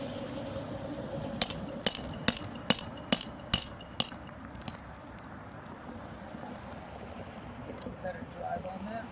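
A hammer drives a nail into a fiberglass roof shingle with about seven sharp, evenly spaced strikes that start soft and grow firmer, close by over steady outdoor wind and background noise.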